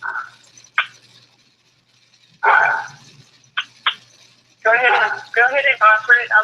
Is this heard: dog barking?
yes